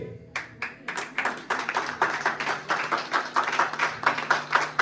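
An audience at a public event honouring a woman DSP claps, with scattered separate claps at first quickly building into sustained, rhythmic applause from many hands, fairly close and loud.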